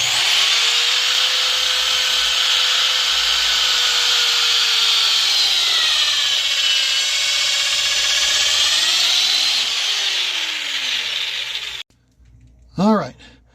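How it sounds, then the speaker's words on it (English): A power drill chews through old rear control arm bushings on a Mustang project car, its loud whine rising and dipping steadily for about twelve seconds before it cuts off and a voice briefly follows. "We're just going to drill these old bushings out, chew them up, and get rid of them."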